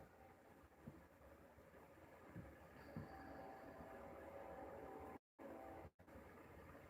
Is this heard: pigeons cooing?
no